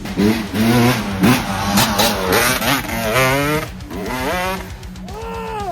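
A dirt bike on a trail in Canada revs loudly and close, its engine pitch climbing and falling in several rising sweeps before settling into a higher whine at the end, with no talking over it.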